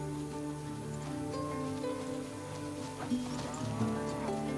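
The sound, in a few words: cattle mooing while herded through the Pantanal wetland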